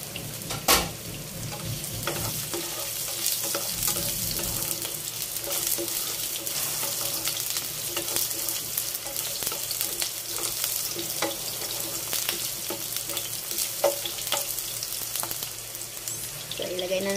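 Sliced onion and garlic sizzling in a pan for squid adobo, a loud steady frying crackle with stirring scrapes throughout and faint bits of speech underneath.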